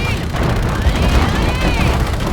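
Dense, loud battle noise from the Call of Duty: Infinite Warfare campaign, with missile fire and booming explosions rumbling continuously and a rising whine running through the mix.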